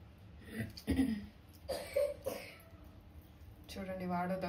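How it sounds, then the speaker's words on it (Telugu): A young boy coughs in a few short, close bursts spaced across a few seconds, with some voiced throat sounds between them. "చూడండి వాడు దగ్గుతూ ఉన్నాడు."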